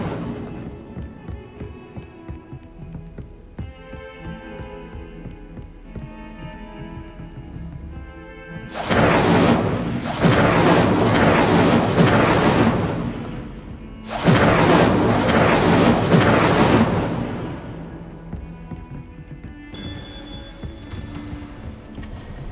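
Incendio fire spell cast in the video game Hogwarts Legacy: two loud roaring bursts of flame, each lasting several seconds, rising over a quieter musical background that returns between and after them.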